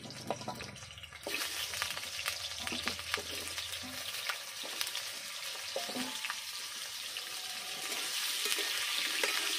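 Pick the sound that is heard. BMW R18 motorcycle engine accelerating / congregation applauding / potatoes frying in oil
potatoes frying in oil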